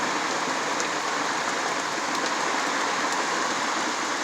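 Heavy rain pours steadily outside a small survivor shack, a dense, continuous hiss and patter that stays loud and even throughout with no break.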